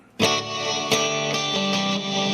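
Electric guitar played through a Fender Super Sonic amp with a generous, deep reverb added, clean sustained chords struck a few times and left ringing into a long wash, alone and close.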